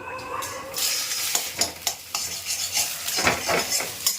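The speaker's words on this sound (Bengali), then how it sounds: "এবার ডিমটা একটু ভেজে নিই" An egg frying in a pan, with sizzling under repeated scraping and clinking of a utensil against the pan, moderately loud and close.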